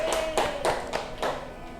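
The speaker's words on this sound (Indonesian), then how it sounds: "Tepuk tangan buat Mbak Aura" A small group claps in a classroom, a few distinct, slightly uneven bursts of hand claps close by, fading toward the end.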